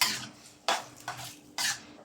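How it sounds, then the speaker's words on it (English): Sauce being stirred in a hot wok for chicken Bolognaise: three or four short scraping swishes of a utensil against the metal pan, close and fairly quiet, with no talking. "We mix it up nicely."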